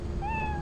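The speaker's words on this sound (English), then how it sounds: "A cat has a mind of its own." A cat gives a single clear meow in the modded Lethal Company video game, a short rising and falling call heard alone over a low steady background hum.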